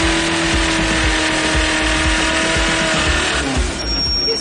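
A car brakes sharply, its engine droning loud and close as a thin tyre squeal rises near the end of the stop, with no talking.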